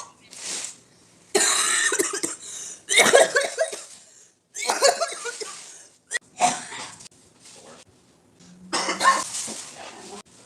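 Several harsh coughs come in separate bursts with short pauses between them, close and fairly loud, with some breathy throat sounds.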